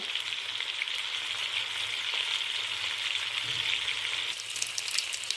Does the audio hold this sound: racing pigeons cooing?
no